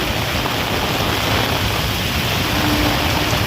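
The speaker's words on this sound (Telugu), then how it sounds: "వర్షం అయితే భారీ ఎత్తున ఉంది" Heavy rain pours down on a Secunderabad street during a traffic jam, a loud, unbroken broadband hiss of downpour with no voices heard.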